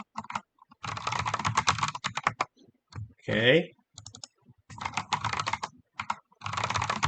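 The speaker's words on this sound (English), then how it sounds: "I'm just typing manually on purpose as to just get the practice in." Someone types by hand on a computer keyboard while coding in C, several bursts of rapid key clicks separated by short pauses, with a brief spoken word in the middle.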